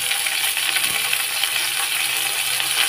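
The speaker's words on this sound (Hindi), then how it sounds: "इन सबको हम अच्छे से भून लेंगे।" Shrimp, radish, cabbage and onion frying together in a pan, producing a dense, continuous loud sizzle without pauses.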